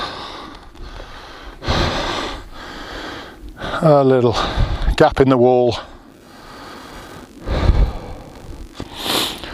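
Close, breathy sniffs and panting breaths come and go around a short stretch of speech, loud and right at the microphone.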